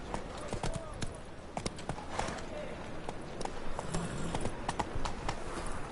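Roach the horse trots along in The Witcher 3, hooves clip-clopping in a steady, quick rhythm close by, with a voice speaking over the hoofbeats.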